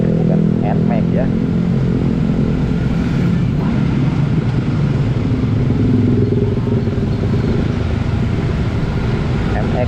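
A Honda CBR150R motorcycle on a test ride gives a loud, steady engine drone with wind rumble throughout, and a voice speaks over it.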